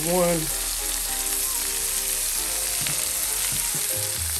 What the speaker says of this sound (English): Saute onion.